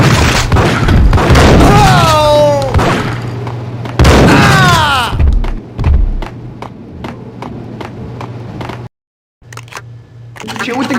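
Gunfire in Max Payne on PS2: shouting and talking fill the opening, then a string of sharp shots cracks out under more voices, cuts briefly to silence, and returns.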